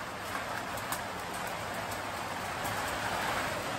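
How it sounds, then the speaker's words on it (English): Hail falls on a renovated garden in an old ghost town, a steady dense patter of hard hits, loud and close, with no talk. "We now have hail."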